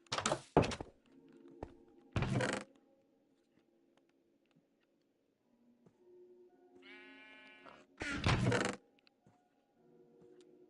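A Minecraft sheep gives a single short, wavering bleat around the middle, set among loud block-placing thunks and clatter in the game, with near-silent stretches between.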